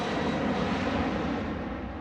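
An Airbus A330 military tanker's jet engines give off a loud, steady broadband roar that fades a little toward the end, with no speech.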